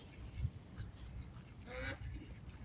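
Ducks at a man-made pond, a few faint quacks and honks scattered over soft outdoor background noise.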